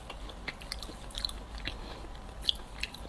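Someone bites and chews a chewy mango-flavored snack up close, with soft, moist crunches and mastication spread over a few seconds and no talk.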